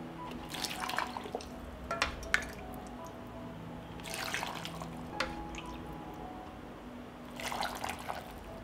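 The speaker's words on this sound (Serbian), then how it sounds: "Vreo preliv sipaću u tegle." Hot vinegar marinade is poured into 700 ml glass jars in three separate splashing, gurgling bursts with quiet pauses between them, nearby and fairly soft.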